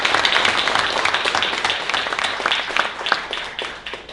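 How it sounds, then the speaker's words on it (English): An audience at a grants announcement claps briskly for about four seconds, a moderately loud patter of individual claps that thins out toward the end. "Let's give a round of applause for all these grants."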